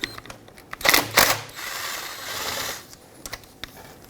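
A 10mm socket ratchet loosens the PCV valve bolt beside the air intake of a 1997-2006 Jeep Wrangler with the 2.4L engine. Two sharp bursts of close clicking are followed by a longer, softer stretch of mechanical rattling.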